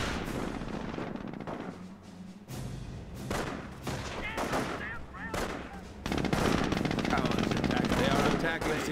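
Machine-gun and rifle fire in a World War II strategy video game, rapid bursts and single shots crackling in waves with heavy booms, punctuated by shouted in-game unit voice lines.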